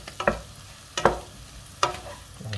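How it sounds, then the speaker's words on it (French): Diced potatoes browning in butter with garlic and parsley are stirred in a pan, giving three distinct scraping stir strokes over a soft, steady sizzle, close up with no voices. "On va mélanger. On fait dorer encore une dernière fois."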